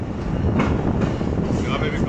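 The Fareed Express passenger train running through rain on the Lodhran–Raiwind branch line, heard from on board as a loud, dense rumble of wheels and carriage noise with some wind buffeting.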